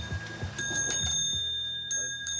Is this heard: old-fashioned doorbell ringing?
yes